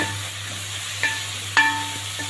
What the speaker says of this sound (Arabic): وبعدين هضيف له جزر مبشور، وهبدا اضيف معلقه بابريكا ونقلب كده